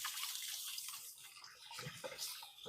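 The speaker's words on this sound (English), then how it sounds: "I'm going to give my hands a quick rinse" Hands rinsed under running tap water in a home kitchen, a short soft splash and trickle, faint and close.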